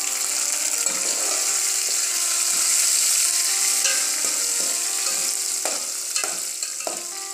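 Chopped chillies sizzle and fry in a hot pan for a spinach and potato sabji, giving a steady bright hiss with occasional clinks of a spoon stirring through the pan.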